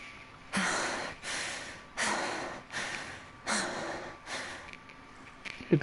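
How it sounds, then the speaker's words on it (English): Genshin Impact characters panting heavily, with a regular run of loud, breathy exhales and gasps about once a second, close and without speech. "Good grief, all the panting and moaning and stuff."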